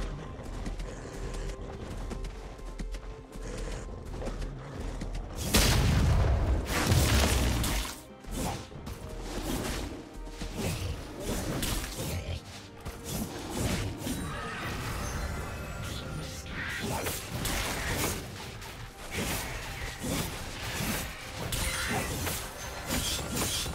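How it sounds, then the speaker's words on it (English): A turret destroyed in League of Legends: a loud crashing, shattering burst that decays over a couple of seconds, surrounded by busy battle effects and clashes. "Blue team's turret has been destroyed."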